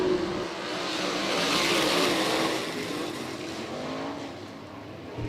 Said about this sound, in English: Kokomo Sprint Cars heat race number 2 to the green.